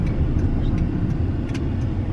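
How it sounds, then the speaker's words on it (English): Steady low road rumble inside a moving car, a continuous engine and tyre drone filling the cabin at an even level with no breaks. "We're in the car."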